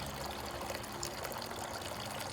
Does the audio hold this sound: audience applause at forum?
no